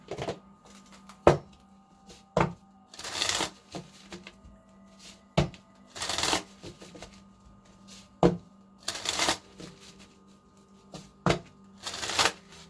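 Oracle cards from the Keepers of the Light deck are shuffled in a steady, close-up series of riffling bursts, each a few seconds apart, with sharp taps and card snaps in between. No one talks.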